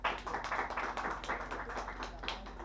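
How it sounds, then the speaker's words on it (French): An audience at a ceremony closing a cancer awareness campaign applauds briefly. The clapping is quick and scattered and sounds faint and somewhat distant. "remercier spécialement Mme Béatrice Couture, que je vous demande d'applaudir."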